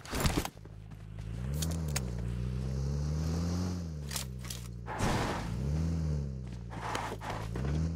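A car engine hums steadily in PUBG Mobile, rising and falling in pitch as the vehicle drives, with sharp clicks and thumps on top and no talking.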